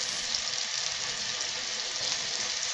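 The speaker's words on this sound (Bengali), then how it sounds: "এবারে একই তেলের ভিতরে আমি পেঁয়াজ রসুন আর কাঁচামরিচ দিয়ে দিব আমি পেঁয়াজ কুচি দিয়ে দিচ্ছি" Chopped onions frying in hot oil: a steady, bright, close sizzle with a faint crackle, constant throughout and alone without talk.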